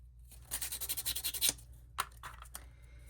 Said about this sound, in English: I'm going to go ahead and just sand these if they need to